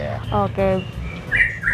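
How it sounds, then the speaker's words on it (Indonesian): A white-rumped shama (murai batu) sings a varied song of clear whistles, rapid trills and chirps, fairly close and loud, over a low background hum with some faint talk beneath. "Jadi lagunya cililin dimainkan oleh suara burung murai batu."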